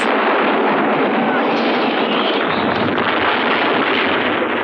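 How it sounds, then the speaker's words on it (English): Cases of cooking oil explode in a night raid on a walled compound, a loud sustained rumbling blast and roar, dense and windy-sounding throughout, with no clear speech. "Then the night's prize, cases of cooking oil, exploded."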